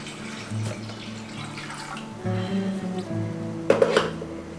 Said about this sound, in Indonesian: Kita masukkan airnya, kita rebus dulu.